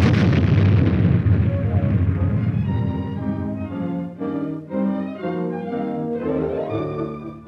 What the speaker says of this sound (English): Simulated atomic weapons are a major feature of the maneuver.